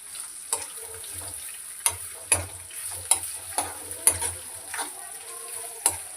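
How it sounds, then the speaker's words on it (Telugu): Onions and green chilies frying in a pan, a soft continuous sizzle broken by repeated sharp scraping clicks of stirring at irregular intervals. "ఉల్లిగడ్డ ఈ పచ్చిమిర్చి గోల్డెన్ బ్రౌన్ వచ్చే వరకు ఉల్లిగడ్డను అయితే వేయించుకున్నాం"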